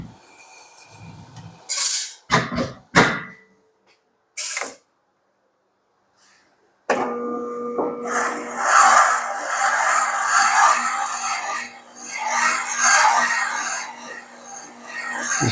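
A hand cutter scrapes 45-degree valve seats in a Subaru EJ25 cylinder head. Short, sharp scraping strokes come first, followed by a brief silence, then a longer, continuous gritty rasp of metal being cut.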